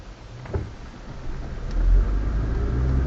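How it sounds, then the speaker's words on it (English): Street traffic on Granville Avenue in Richmond, BC, a steady low engine rumble from passing cars that swells as a vehicle accelerates nearby. "Where the traffic is right now."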